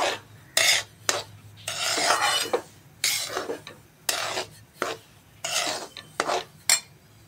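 Gram flour roasting in ghee for rava-besan laddoos, stirred with a utensil in a pan: repeated close scraping and rasping strokes in bursts with short pauses, no talk.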